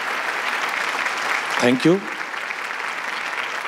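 Audience applause honouring a charcoal painting artist at a Marathi comedy show, a steady wash of clapping from a crowd throughout, with someone briefly speaking over it midway.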